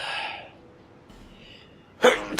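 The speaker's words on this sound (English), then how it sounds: "You are really sneezing a lot." A single abrupt sneeze bursts out near the end after a quiet stretch, loud and close, with fainter voice-like sounds at the start.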